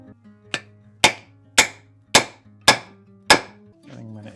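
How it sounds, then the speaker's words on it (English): Chisels hammered into a plant clump to split it apart, six sharp, evenly spaced metallic strikes about half a second apart, loud and close, over a low steady hum. "I'm using chisels to just split it apart"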